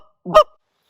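A Canada goose call, blown by lip calling, gives a single short, loud cluck that rises sharply and breaks into a honking note, followed by silence.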